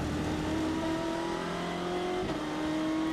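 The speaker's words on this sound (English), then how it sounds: "Got a very relaxed and leisurely sound, this big twin turbocharged BMW" A twin-turbocharged BMW race car engine drones steadily at moderate volume, onboard during qualifying at the 2019 1000 Miles of Sebring, its pitch creeping up and dipping slightly, with a faint whine layered on top.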